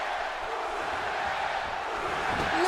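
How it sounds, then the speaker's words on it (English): A large arena crowd roars continuously during a Royal Rumble wrestling match in the WWE 2K18 video game, a steady loud wash of cheering with no pauses. "Listen to the crowd."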